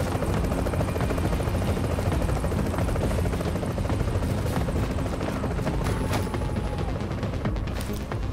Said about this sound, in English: What's that helicopter doing?